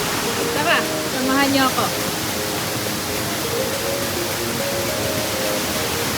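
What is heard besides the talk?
waterfall and its flowing stream water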